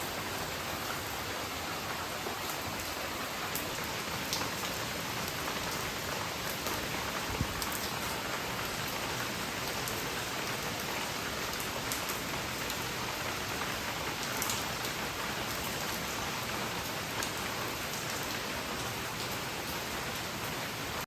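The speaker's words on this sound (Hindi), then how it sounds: "बाहर एकदम तेज़ बारिश शुरू हो गई है" Steady heavy rain hisses continuously, a dense wash of falling water with occasional louder drops and no voices.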